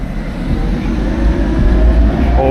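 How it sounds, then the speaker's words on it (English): A retro tram passing along a street near the old city walls in Tallinn, a loud, steady rolling rumble with a deep low drone, close by and without speech. "Check out that tram. Look how retro it is."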